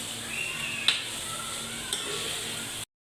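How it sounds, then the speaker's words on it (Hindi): Masala for aloo gosht with potatoes and meat fries in a pot, a soft steady sizzle with a couple of sharp spoon clicks against the pan as it is stirred, fairly quiet and without talk. "इसको भी तकरीबन हम 10 से 12 मिनट तक भूनेंगे।"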